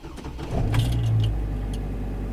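2004 GMC Canyon engine cranking and catching after the ignition key is turned, a short whir followed by a low steady idle rumble, close and fairly loud with no talk.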